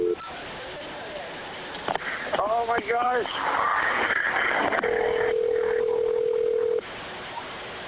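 Telephone dialing and line tones during a transferred emergency call, with a steady tone held for about two seconds near the end over a crackly phone line while a distressed voice speaks.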